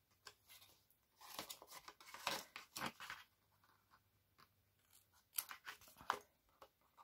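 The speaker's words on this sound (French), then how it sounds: "je vais venir biseauter les coins" Quiet, close snips and crisp crunching cuts of scissors beveling the corners of stiff scrapbooking paper, coming in short irregular bursts with pauses between.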